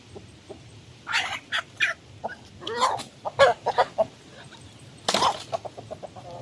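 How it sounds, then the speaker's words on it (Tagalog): Chickens on a range, with roosters and hens together, cluck and squawk in scattered bursts, one louder call near the end, and no voices over the birds. "Nakita nyo ba ang ginawa ng isang rooster habang nakasampa ang isa pang rooster sa hen?"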